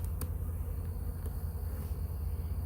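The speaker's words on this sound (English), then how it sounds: "let all those bees get in there to her" Honeybees from a package being installed in a top bar hive buzz in a steady, soft drone, with a few brief louder passes of single bees close by.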